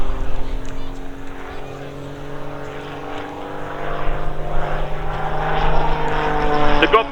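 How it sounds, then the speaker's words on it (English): An RAF Grob Tutor propeller aircraft flies an aerobatic display at an airshow, its engine droning steadily at a distance and swelling louder toward the end while a voice talks over it. "The Tutor now rolls 90 degrees while pointing straight up before completing a stall turn at almost zero airspeed."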